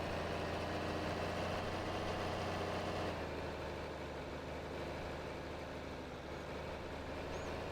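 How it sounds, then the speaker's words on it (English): A John Deere 4020 tractor with 4WD in Farming Simulator 22 pulls across plowed ground, its engine a steady, close, low drone that eases slightly after a few seconds and then holds even, with no talking. "even this tractor struggles a little bit on the already plowed ground"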